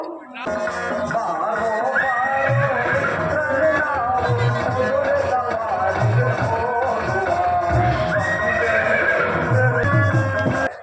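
A horse neighs with clip-clopping hooves in a staged mythological drama in a village, the whinny loud and close over a steady, busy backdrop.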